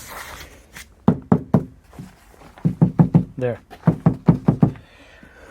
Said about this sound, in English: if you hit the doors in this car, you see, sounds kind of solid